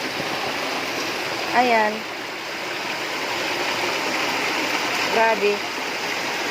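Rushing floodwater roars as a steady, loud, continuous stream close by. A man makes two brief spoken exclamations over the water.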